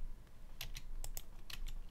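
A computer keyboard tapped during video editing, a handful of quick, light keystrokes in a loose burst, close and faint over a low hum with no talking.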